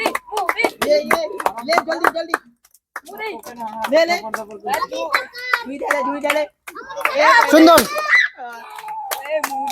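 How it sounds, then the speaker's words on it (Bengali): An audience claps for the winners of a balloon-blowing party game, a short burst of applause rising near the end amid steady talking and children's voices. "একটু জোরে করে হাততালি হবে"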